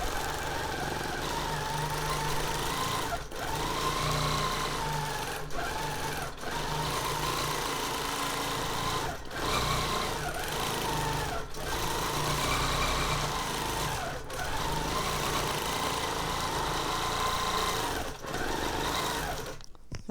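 A sewing machine free-motion quilting a whimsical feather pattern runs in a steady, close whirring hum, broken by several brief pauses as the stitching changes direction.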